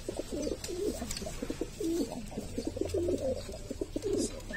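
Racing pigeons coo in a repeated, rhythmic series at close range beside their loft, with low rumbling coos continuing steadily and no talk.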